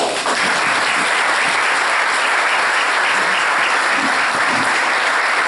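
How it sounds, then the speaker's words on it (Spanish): Audience at an economics forum in Argentina applauding to send off the EU ambassador, steady dense clapping throughout, fairly loud and continuous. "lo despedimos con un aplauso"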